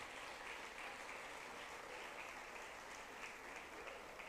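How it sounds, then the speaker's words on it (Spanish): A church congregation applauds during a sermon, honouring Jesus Christ and the word of God: steady, dense clapping that stays quiet and distant throughout, with no voice over it. "Fuerte ese aplauso a Jesucristo."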